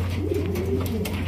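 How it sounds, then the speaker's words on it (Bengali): Kaldam pigeons, an Indian breed, coo steadily at close range with soft rolling calls over a constant low hum, no talking. "জি এই কালদম কবুতর?"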